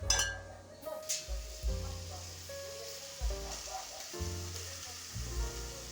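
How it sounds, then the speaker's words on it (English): Chopped tomatoes and onions sizzle in a hot pan, with soft clinks and stirring scrapes recurring every second or so, fairly quiet and close. "My tomatoes are chopped and my onions too, and I'm ready to cook."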